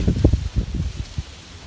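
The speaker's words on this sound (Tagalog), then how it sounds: "O, tingnan nyo, ang lakas ng hangin" Strong wind gusting through guava tree leaves, a close rustling roar that swells and fades in bursts.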